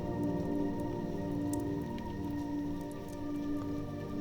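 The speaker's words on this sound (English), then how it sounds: "the soothing sound of the rain hitting the castle" Steady rain drumming on a castle, a dense continuous patter with soft irregular drops, even and unbroken throughout at a moderate level with no voices.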